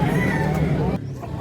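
A rooster crows among quality fighting cocks at a market in Consolacion, Cebu, where other fowl cluck around it. The crow is loud and close over steady low crowd murmur, and it drops off near the end.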